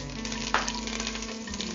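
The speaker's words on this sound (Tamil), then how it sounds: "வதக்குறோம்." Mustard seeds and curry leaves sauté in hot oil in a pan, a steady close sizzle with a single sharp clink of a utensil partway through.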